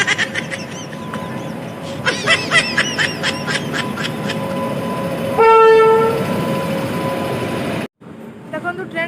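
A train arrives in outer London, its wheels and carriages rumbling steadily with clacking beats, then a loud horn blast sounds for about a second before the noise cuts away, with voices in the background.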